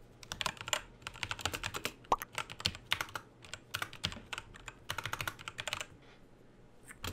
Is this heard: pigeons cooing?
no